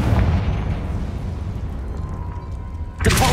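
A spell explosion in the video game Hogwarts Legacy bursts as a deep, rumbling boom that decays over a few seconds, followed by a sharp crackling burst at the end.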